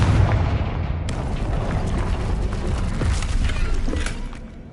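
A Confringo blasting spell erupts in Hogwarts Legacy, a sustained loud booming rumble with crackling debris that stays dense for several seconds before fading slightly.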